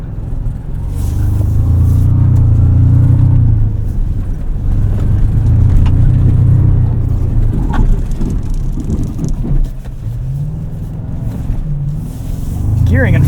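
A 2025 Toyota TRD Pro 4Runner or Tacoma in 4 low, its engine rumbling loud and close as it drives over an off-road berm, the low drone surging and easing while people talk over it.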